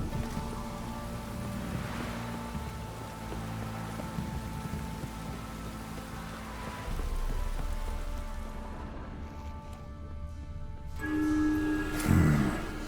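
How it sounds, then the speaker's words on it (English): Continuous heavy rain pours down in a dense, steady hiss in the video game The Witcher, with a low rumble and a brief tonal clatter near the end. "This downpour's a bastard, it is."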